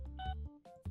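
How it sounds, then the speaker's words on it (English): A phone gives off a couple of short electronic beeping tones, faint and brief, with no talking over them. "Shut up, phone."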